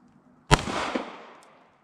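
A single shotgun blast at clay targets on a shooting range, a sharp close report followed by a brief decaying echo.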